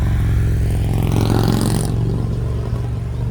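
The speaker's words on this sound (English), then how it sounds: "Motorcycles, man, they're loud." Loud motorcycles roaring past on a street beside a community garden, a dense engine drone with a rising whine that swells and then drops away after the bikes pass, close and alone with no talk.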